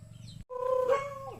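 Chickens call out nearby, one giving a drawn-out, wavering squawk after a brief pause in a low background rumble.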